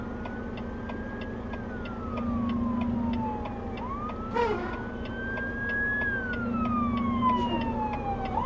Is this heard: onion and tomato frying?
no